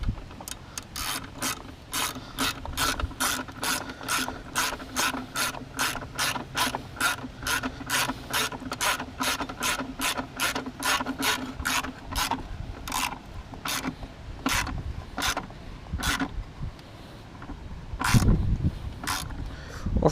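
Close, steady ratchet clicks tighten the battery hold-down on a W212 Mercedes E350, a long run of evenly spaced rasping strokes that slows and stops near the end.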